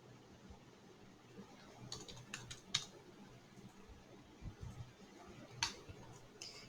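Soft, quiet keystrokes on a computer keyboard as salary figures are entered, irregular bursts of a few quick taps with pauses between them over a low background hum.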